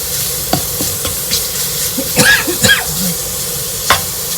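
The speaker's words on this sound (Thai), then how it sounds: "ผัดพริกแกงให้หอมๆ" Thai red curry paste stir-fried in a hot pan until fragrant, a close, loud sizzle broken by a few scraping strokes of the spatula.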